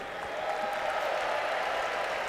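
A large arena crowd at the 2004 Eurovision Song Contest in Istanbul applauds in a dense, sustained roar of clapping and cheering that fills the space without a break.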